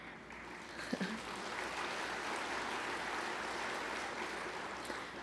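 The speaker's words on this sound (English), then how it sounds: "That deserves a hand clap." Audience applause at an annual church conference in Western North Carolina, a steady, dense wash of clapping from a large room that holds evenly throughout without letting up.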